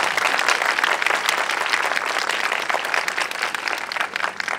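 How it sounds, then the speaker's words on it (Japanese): A crowd at the Kyoto Sakura Yosakoi 2019 award ceremony claps for the judges, a dense, loud and even burst of applause with no voices over it. "皆様今一度大きな拍手をお願いいたします"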